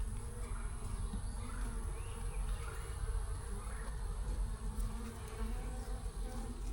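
A colony of honeybees in a mating nuc hive box produces a steady, dense buzzing that stays close and constant throughout, with no voices.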